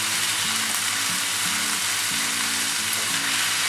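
Tomato rava bath ingredients with rock salt and turmeric stirred in a hot pan, a strong continuous sizzle with a spoon scraping in short repeated strokes, close and steady with no voices.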